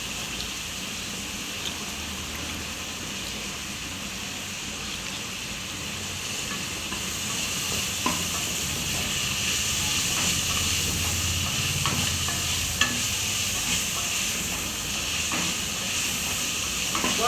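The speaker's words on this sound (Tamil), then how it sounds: "அதையும் போட்டு வதக்கிடுவோம்." Steady sizzling and hissing of vegetables and coriander sautéing in a pan for vegetable biryani, continuous and close, with faint stirring clinks; no voices.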